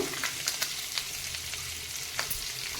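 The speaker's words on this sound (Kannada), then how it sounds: "ಇದಕ್ಕೆ ಈರುಳ್ಳಿ ಕೂಡ ಹಾಕ್ತಾ ಇದ್ದೀನಿ ನೋಡಿ" Onions fry in hot oil with mustard seeds, cumin and curry leaves, a steady close sizzle with scattered sharp crackles and pops throughout, and no voices.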